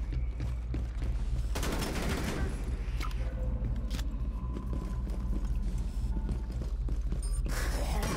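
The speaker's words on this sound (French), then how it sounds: "Je tire des plus grosses balles que toi" Gunfire in the video game Rainbow Six Extraction: dense bursts of rapid shots with mechanical clatter, loudest in the middle and returning near the end, over a constant low game rumble.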